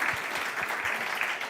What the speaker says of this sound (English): Please give a huge applause to Irina